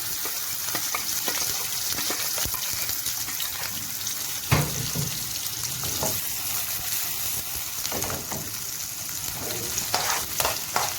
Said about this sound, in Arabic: واول ما السمنه ساحت زي ما انتم شايفين كده هننزل بالبصله